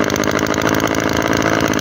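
A Japanese lawn mower engine runs loud and close with a steady, even idle chug throughout and no voices.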